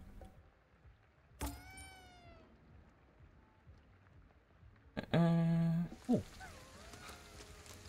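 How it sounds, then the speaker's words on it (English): A cat in the video game Ghostwire Tokyo gives a clear rising meow, then after a quiet pause a louder, drawn-out meow, both close and alone over faint background hum. "Kitty cat."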